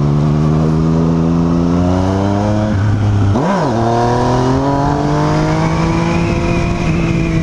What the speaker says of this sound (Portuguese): Só com o esportivo que ela fica com um barulho assim de... Como é que fala? De 3 cilindros, mas um 3 cilindros bem puxando pro 4 cilindros.